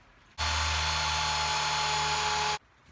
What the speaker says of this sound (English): We're gonna need to drill a hole for that peg.